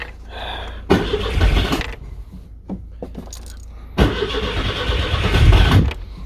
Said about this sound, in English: The choke doesn't seem to work very well on this car at the moment. It over chokes but under revs.